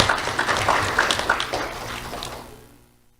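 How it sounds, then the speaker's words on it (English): Audience applause for an award recipient at a sheriff's office Do The Right Thing awards ceremony, a moderate burst of clapping that fades out toward the end. "Round of applause for Angelo Canistrossi."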